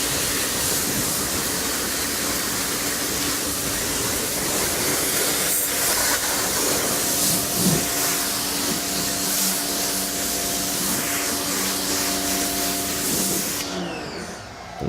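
A pressure washer blasts water against dirty textured fender liners on a car, a loud continuous hissing spray that holds steady for nearly the whole stretch before tapering off.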